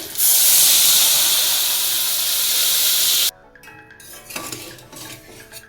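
Soaked, pressure-boiled chana dal seasoned with salt and turmeric goes into a hot cooking pan, setting off a loud, steady hiss of steam and sizzle for about three seconds. A few quieter clinks of a utensil against the pan follow.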